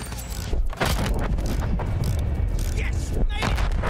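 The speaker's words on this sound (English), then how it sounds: "Anti-air guns." Anti-air guns in Battlefield 1 pound out a dense barrage of booming bursts, loud and close, layered with rumbling blasts while a player talks over the gunfire.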